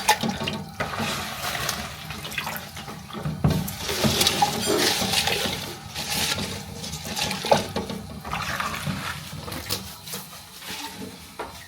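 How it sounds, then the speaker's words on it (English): Drinking water pours and splashes into a kettle in a home kitchen in uneven gushes over several seconds, close and moderately loud, with no talking. "So I add drinking water inside the kettle."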